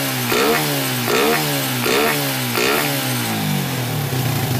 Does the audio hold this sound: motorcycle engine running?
yes